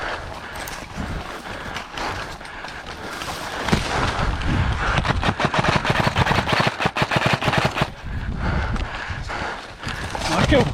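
MG36 airsoft gun on a high-rate MOSFET build firing full auto, rapid dense bursts of mechanical clatter in the second half with some scattered shots before them and voices talking at the end.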